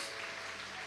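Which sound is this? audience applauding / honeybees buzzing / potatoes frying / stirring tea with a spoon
audience applauding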